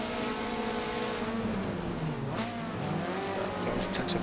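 Mazda MX-5 race cars lapping Silverstone National circuit in an MX-5 Cup race, a steady droning engine note with a car passing through near the middle and faint tyre noise toward the end.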